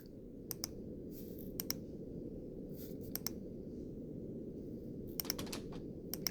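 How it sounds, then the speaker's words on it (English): Office typing in the Nancy Drew: The Deadly Device video game, heard as scattered bursts of quick keyboard clicks over a steady low room hum, with no voices. "Are we in an office? Ooh, I hear typing."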